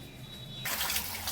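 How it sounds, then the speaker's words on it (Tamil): Water poured over drumstick (moringa) leaves to wash them for cooking, a sudden steady gush of splashing liquid that starts partway through and continues briefly. "இப்ப தண்ணி ஊத்தி நல்லா கழுவி எடுத்து வச்சுக்குவோம்."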